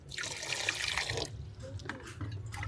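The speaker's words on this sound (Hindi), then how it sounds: "अभी मैं पानी ऐड कर रही हूँ।" Water pours into a cooking pot holding tripe, a soft, fairly quiet splashing stream for about a second before it tapers off, with someone talking.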